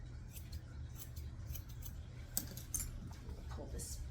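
Grooming scissors snip through a Morkie dog's coat in a quick series of close, crisp metallic clicks, some bunched together, over a low steady hum of background noise.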